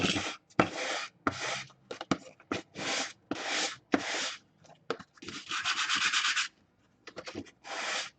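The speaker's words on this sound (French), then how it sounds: "Là c'est juste le ponçage" Cardboard parts of a medieval Viking farm model are sanded by hand in repeated rasping strokes, loud and close. The bursts come in an uneven rhythm with short gaps between them.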